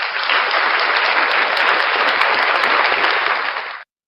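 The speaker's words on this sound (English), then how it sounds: "round of applause for Paul Harvey" Loud, dense audience applause for Paul Harvey fills the room steadily, sustained clapping with no talk over it, then cuts off abruptly near the end.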